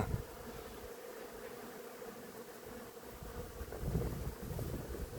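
A low, continuous insect buzz hangs around a flowering shrub late in the season, with faint wind rumble and no voices nearby.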